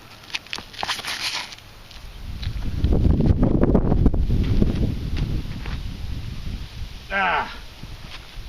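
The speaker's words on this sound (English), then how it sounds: "We've got a little bit of a headwind" Wind gusts buffet the microphone on a disc golf course, a loud rushing swell in the middle that fades back down, with a brief rustle near the end.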